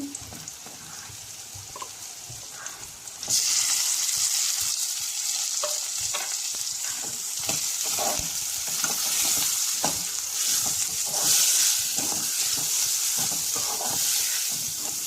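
Tomatoes tossed into a hot pan with curry leaves, turmeric and salt set off a sudden loud sizzle. The hissing fry carries on steadily, broken by repeated scraping and clinking of stirring.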